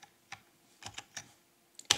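Keys tapped on a computer keyboard, a handful of separate clicks spaced irregularly, ending with a sharper final press of the enter key, close and fairly quiet in a silent room.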